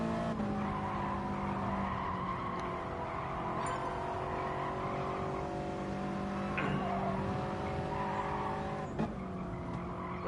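A race car in Gran Turismo Sport at the Autopolis circuit braking hard for a corner, with a steady engine drone and sustained tire squeal that holds throughout. A faint squeak stands out near the end.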